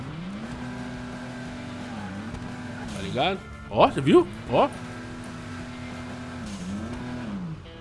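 A modified Vulcar Nebula Turbo with front-mounted turbos in a driving video game idles with a steady droning hum, then revs sharply in three quick bursts before settling back, while someone talks over it.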